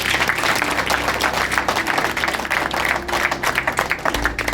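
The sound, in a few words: audience loud applause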